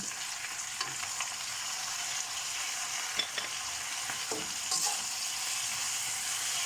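Kangkong (water spinach) is sautéed in a pan, a quiet continuous sizzling hiss with a few soft clatters and pops from stirring, nearby and without speech.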